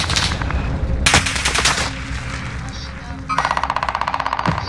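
Rapid automatic gunfire in a first-person shooter video game, sustained machine-gun bursts and single shots loud and close, with players shouting over the shots.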